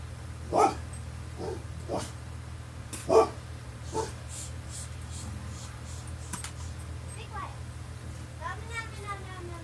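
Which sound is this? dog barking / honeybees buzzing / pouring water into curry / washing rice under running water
dog barking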